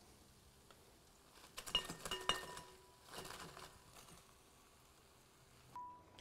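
Fried chicken wings being tipped into a bowl in a kitchen, giving light clinks and rattles of dishes in a few short bursts over a quiet background, with one brief spoken word.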